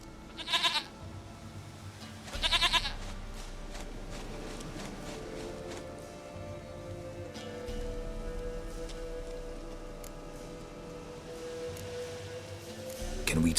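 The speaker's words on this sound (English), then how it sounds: "Goat of mine, dearest, sweetest goat." Goat in the video game The Witcher 3, two short loud bleats near the start followed by a steady wash of rain-like ambience and low game sounds.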